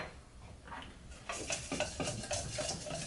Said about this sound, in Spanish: Lo revuelvo.